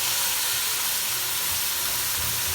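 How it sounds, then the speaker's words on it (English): Minced meat and onions frying together in a pan, a steady close sizzle with soft crackling and occasional stirring scrapes throughout. "she added the mince and she's frying both of them together"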